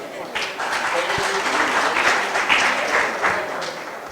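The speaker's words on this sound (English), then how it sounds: "welcome her with big round of applause." An audience at a paediatric cardiology workshop applauds to welcome a speaker, sustained moderate clapping that swells slightly and then tapers, with a voice faintly audible beneath.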